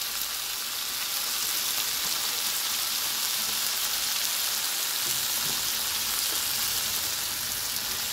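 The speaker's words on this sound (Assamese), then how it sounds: "মাংসখিনি বৰ ধুনীয়াকৈ ভাজা হৈছোঁ" Meat fries in a pan with tomato, giving an even, constant sizzle like light rain that holds steady throughout with no talking.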